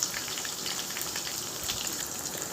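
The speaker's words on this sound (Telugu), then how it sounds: "మంచిగా ఆనియన్స్, పచ్చిమిరపకాయలు మంచిగా వేగాలండి." Sliced onions and green chilies frying in hot oil with tempering seeds, a dense, even crackling hiss held close throughout with no voices.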